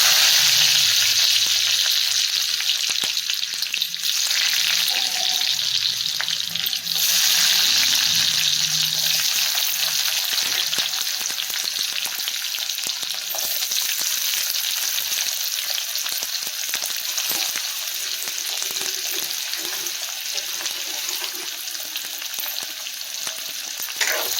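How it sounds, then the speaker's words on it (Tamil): Garlic and onion sizzle in a pan of hot oil right after mustard seeds have popped, for a Tamil sundakkai kara kulambu, a dense, steady frying hiss lasting the whole time with faint stirring. "கடுகு பொரிஞ்சிச்சு இப்போது பூண்டும் வெங்காயத்தையும் சேர்த்துக்கலாம்"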